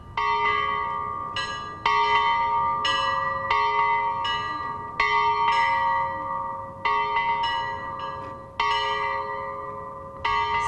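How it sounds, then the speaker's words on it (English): Bells ring in a steady series of overlapping strikes, each tone ringing out and decaying before the next lands, loud and resonant. "When you hear the ringing of the ancient bells"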